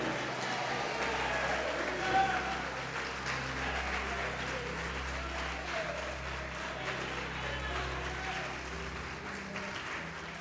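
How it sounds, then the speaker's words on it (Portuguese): Church congregation applauding during a sermon, a continuous layer of clapping at moderate level with a low steady hum underneath and some murmured voices mixed in. "Pode aplaudir, glorificar, aleluia."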